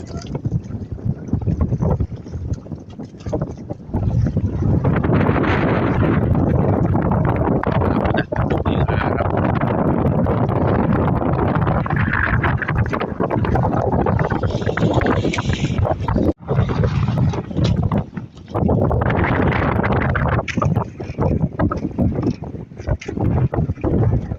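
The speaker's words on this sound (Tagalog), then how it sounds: "Napasabak sila sa lakas ng hangin, sa lakas ng Amihan" Strong northeast monsoon wind buffets the microphone over the steady rush of water and waves at sea off Bataan, Philippines, a loud, continuous roar without a break.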